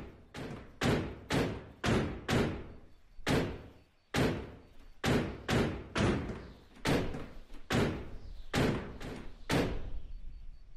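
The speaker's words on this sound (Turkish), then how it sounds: "Teneke sesi çıkıyor arkadaşlar kapıdan." Repeated loud, tinny slams of a car door in The Long Drive video game, roughly fifteen sharp bangs in uneven rhythm, each ringing briefly, close and clear with no talk.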